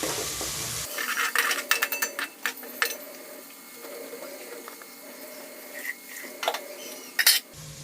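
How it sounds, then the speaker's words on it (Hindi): A spoon stirs ground ginger in a pan while cooking a moong dal pakoda curry, making repeated scraping and clinking strokes against the metal over several seconds, with a few sharper knocks near the end. "पिसा हुआ अदरक डालेंगे, 2 चम्मच, और इसको जरा चला लेंगे अच्छे से।"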